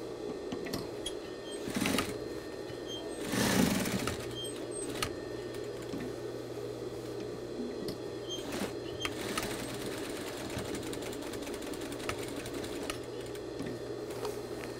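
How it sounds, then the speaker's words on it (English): A sewing machine top stitching a new jeans zipper, a steady close mechanical whir running throughout with a few louder surges and bumps of the fabric being handled. "we're going to replace the top stitching just underneath the zipper"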